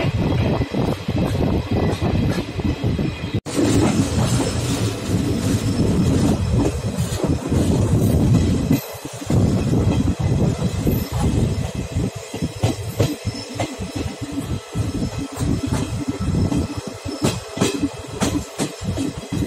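Inside a passenger train carriage bound for Radhikapur, India, a loud continuous rumble with rhythmic clickety-clack of wheels over rail joints and occasional rattling, no talking.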